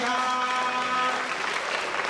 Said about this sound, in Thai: ขอเสียงปรบมือครอบครัวจันทิมครับ